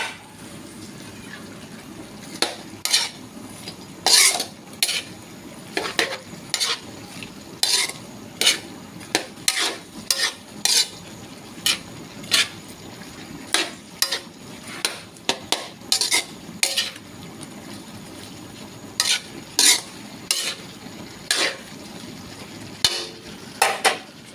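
Broccoli and cauliflower cook in a pan while a metal utensil stirs them, giving repeated sharp scrapes and clanks against the pan at an uneven rhythm over a faint background simmer.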